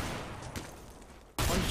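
Gunfire in Counter-Strike: Global Offensive, with a dense burst of shots at the start, then a quieter lull and a sudden loud blast near the end; no talk.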